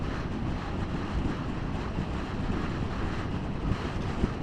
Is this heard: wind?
yes